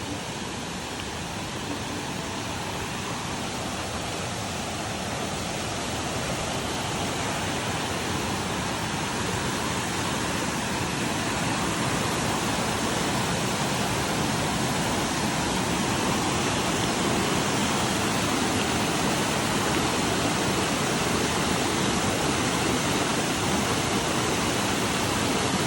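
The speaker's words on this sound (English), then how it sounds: "I have to cross this creek. This is called Cripple Creek." Cripple Creek flowing steadily, a dense continuous rush of water heard close by and fairly loud, unchanging for the whole stretch with no voices.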